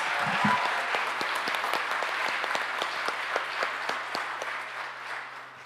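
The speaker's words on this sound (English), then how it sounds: "Let's give Gabrielle a very wonderful round of applause." An audience at a Martin Luther King awards ceremony applauds in a room, giving a dense, steady round of clapping that fades slightly toward the end, with no talk over it.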